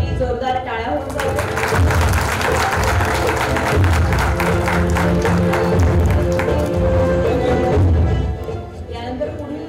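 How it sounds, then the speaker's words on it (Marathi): An audience claps steadily through an award ceremony hall in Nashik, dense, sustained applause filling the room for several seconds before tapering off, with a voice over a speaker system partly audible beneath. "यांच्यासाठी जोरदार टाळ्या होऊन जाऊ."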